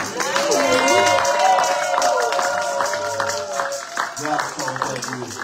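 A church congregation at a Sunday service applauds and cheers, with dense rhythmic clapping and raised voices layered over sustained musical tones, lively and fairly loud throughout.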